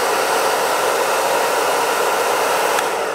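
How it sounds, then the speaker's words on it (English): A Harry Josh Ultra Lite Pro blow dryer runs steadily at its highest speed, a loud close-up broadband whoosh of air holding even throughout with no talking. "So not a bad sound coming from the blow dryer."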